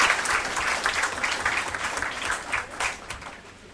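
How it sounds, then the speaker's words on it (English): Steady applause from a conference audience welcoming a judge to chair a parallel session, a dense, even wash of clapping that runs the whole stretch and tapers slightly at the end. "would like to welcome you with a loud round of applause"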